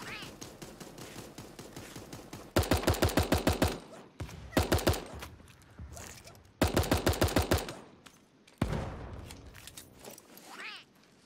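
Tommy gun fire in the cartoon battle game Super Animal Royale, several rapid bursts of close automatic shots separated by short pauses, with brief gaps of quieter game sound between them.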